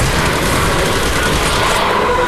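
Gunfire at a zombie in the Nazi Zombies video game on the Kino map, heard as a loud, continuous, dense wall of rapid shots from start to finish.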